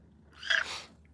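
A pet cat gives a single short, breathy meow, close and fairly loud in a quiet room, with no talking.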